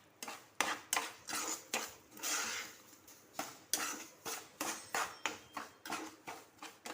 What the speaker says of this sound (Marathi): ड्रायफ्रूट पण आपल्या ह्याच्यामध्ये तुपामध्ये व्यवस्थित आता परतून घ्यायचे आहेत।